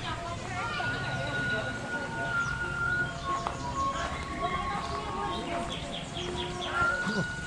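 Birds chirp in the corner of a restaurant in Sentul. Scattered bright calls repeat over a busy background of ambient murmur.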